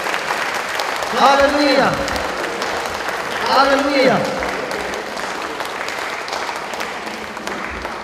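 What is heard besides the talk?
church congregation applauding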